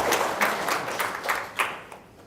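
Audience applause rises in a short burst of clapping at a corporate talk, with distinct claps within the crowd that fade out toward the end.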